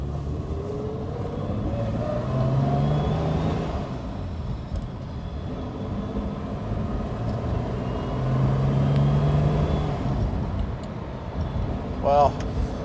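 A 1967 Aston Martin DB6 Vantage with a 4.7 litre engine hums and rumbles steadily from inside the cabin on a road test, the drone swelling at times, with people talking over it and a brief tonal beep near the end.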